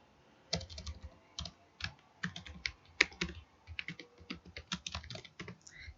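Rapid, uneven keystrokes on a computer keyboard while entering code in an editor, close and clear, with irregular clusters of clicks and no voices.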